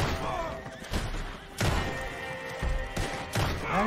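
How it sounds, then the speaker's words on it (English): Explosions in Red Dead Redemption 2 online during a gunfight over a bag of money: several heavy booming thuds spaced about a second apart over constant game noise, with faint voices in the background. "Did you hear that? That's a cross being blown up."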